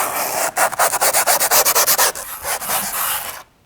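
Skateboard grip tape edges being sanded down with quick back-and-forth scraping strokes, a rapid rhythmic run of about a dozen close, gritty rubs followed by a longer smoother pass before stopping.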